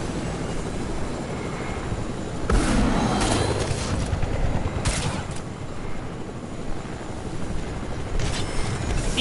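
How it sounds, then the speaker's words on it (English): Helicopter rotor and engine noise in the Fortnite video game, a steady loud mechanical drone with sharp bursts and impacts over it, no talking. "These helicopters were a great investment in Fortnite."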